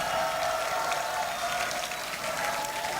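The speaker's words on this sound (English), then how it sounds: "Lots of cheering." Crowd cheering and applause during the SpaceX Starship 2 launch countdown in November 2023: a dense, loud, continuous roar of clapping and voices, holding steady throughout.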